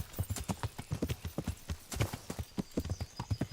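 Horse hooves clip-clop in a quick, steady rhythm, close and clear, each strike crisp with a slight echo, and no voices over the gait.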